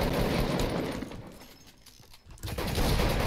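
Dense, continuous gunfire from a Fortnite match, a sustained clatter of shots that thins briefly in the middle before surging back loud and busy.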